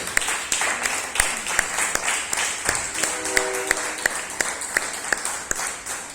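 A church congregation claps joyfully after a prayer, with loud, rhythmic unison claps beating over a lighter spread of scattered hands, and a brief sustained musical tone surfacing midway.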